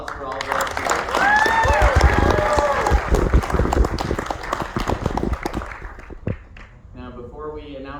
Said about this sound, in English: let's give another round of applause for all of our